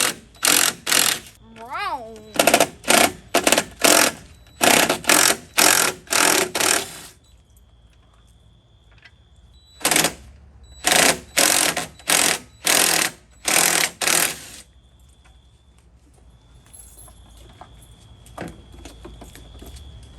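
On a Jeep Gladiator, the 10mm bolts holding the headlight assembly are run out in a rapid series of loud, buzzing mechanical bursts. Short pauses separate clusters of bursts, with quieter gaps and faint tinny clicks between them.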